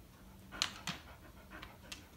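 Dog panting quietly nearby in rapid, rhythmic breaths, faint and steady with soft huffs and no talk.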